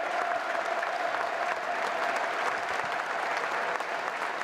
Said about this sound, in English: we start here with a minute's applause